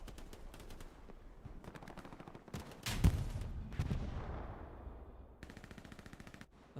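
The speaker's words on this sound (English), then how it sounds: "LGN is taking shots with an AT gun." Gunfire in the video game Hell Let Loose during a competitive match, with bursts of rapid automatic fire and a heavier anti-tank gun blast booming and echoing near the middle, no voices.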